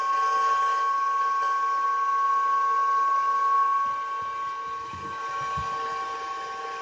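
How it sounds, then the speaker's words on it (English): The cooling fan of a Bitmain AntMiner S9 Batch 3 crypto miner runs continuously, a steady, fairly loud whirring hum with a high pitched whine that eases slightly partway through. "it's a pretty powerful fan"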